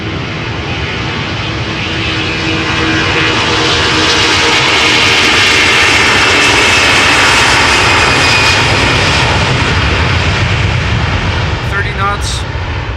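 Airliner jet engines roaring loudly in a sustained takeoff roll at Amsterdam Schiphol Airport, the thrust swelling and holding steady as the aircraft gathers speed down the runway.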